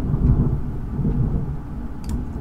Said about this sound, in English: Ooh, I hear thunder.